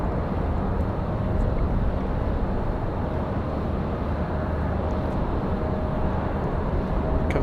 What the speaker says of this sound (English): Comes that E175 from DC.